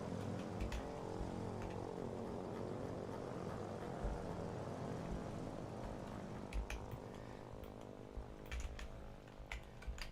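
A propeller plane in the war game Foxhole drones faintly in the distance, a steady low hum that lasts throughout, with scattered light clicks and no voices.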